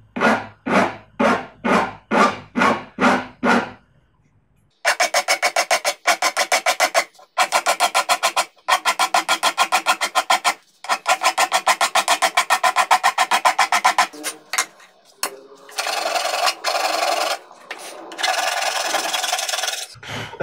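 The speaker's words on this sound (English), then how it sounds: "I continue with this, which is with a smoother file rather than doing everything with a coarse file." Smooth file rasping across metal frets on a CNC-built guitar neck, starting with a handful of separate strokes, then long runs of rapid, rhythmic back-and-forth filing close up with brief pauses between passes.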